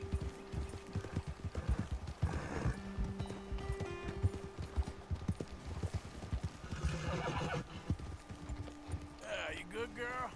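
Horses clip-clop at a steady walk in the Red Dead Redemption 2 video game, with a couple of clear neighs and whinnies near the end, heard close, while voices talk over them.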